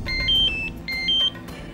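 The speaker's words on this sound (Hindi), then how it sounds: "अंजलि के फोन हुआ है।" A mobile phone rings with an incoming call, repeating an electronic two-tone ringtone in two loud, clear bursts close by, with faint room noise beneath.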